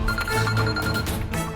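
A telephone rings at home as a steady, continuous electronic ringing tone that stays at an even loudness for the whole short stretch, with no talk over it.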